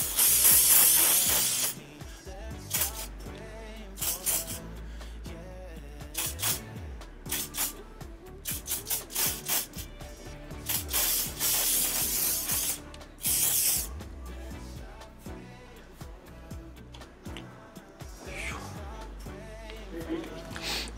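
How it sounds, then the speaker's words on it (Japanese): Hairspray misted lightly over styled hair during a salon up-bang cut, a soft airy hiss in short bursts amid music and nearby conversation. "スプレー軽く拭いていきます。"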